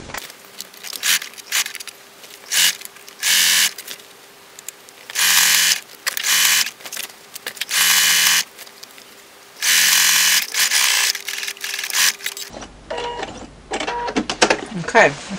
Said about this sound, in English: So I will use the zigzag stitch on this one as well